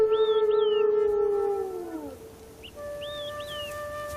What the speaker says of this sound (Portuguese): Seus uivos assumem um aspecto melancólico, de busca